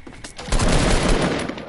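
Sustained rapid gunfire in an online shooter video game, a loud continuous burst starting abruptly after faint earlier shots and holding steady to the end.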